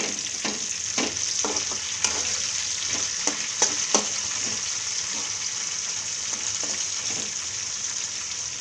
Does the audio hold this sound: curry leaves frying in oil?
yes